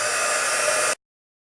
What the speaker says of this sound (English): Take your heat tool, put it on the second setting.